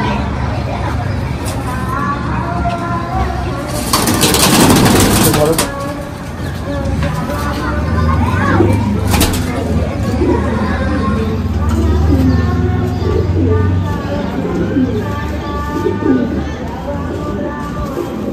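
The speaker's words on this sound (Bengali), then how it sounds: "এগুলো কি উড়াচ্ছ তোমার ঘরেরই পায়রা তাই তো?" Domestic pigeons being flown from a home loft outdoors: wing flaps and flutters, with a louder burst of flapping midway, amid street traffic hum and people talking nearby.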